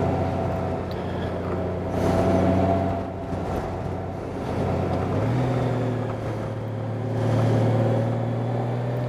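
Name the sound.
2018 Honda Goldwing motorcycle shifting gears in manual mode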